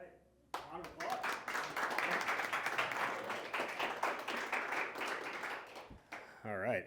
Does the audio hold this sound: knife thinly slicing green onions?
no